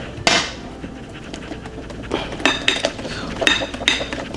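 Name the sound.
whisking lumpy chocolate cake batter in a bowl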